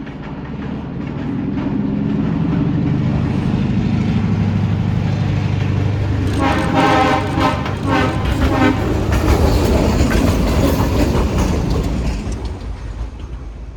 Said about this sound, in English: train NQEX returns to Nesquehoning with a water tanker and SW8 switcher number 803